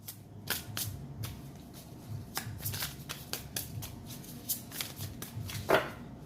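Someone shuffles a deck of playing cards close up, a run of quick papery riffles and soft flicks repeating in short bursts with no talk.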